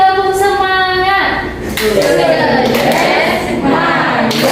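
A group claps out a rhythmic 'tepuk semangat' cheer pattern during a teaching session, sharp hand claps in short bursts with voices chanting alongside.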